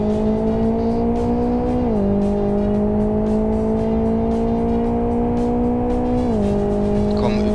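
A race car in the Live for Speed racing game accelerates under a loud steady engine whine that rises in pitch, with two quick gear shifts briefly dropping the tone before it climbs again.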